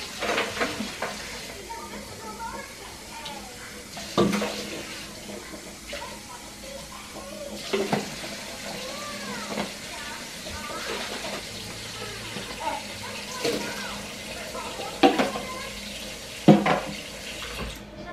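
Running tap water rinsing a drink shaker at a sink, with splashing, gurgling and occasional knocks of the shaker as it is washed, close by, while a person talks at times.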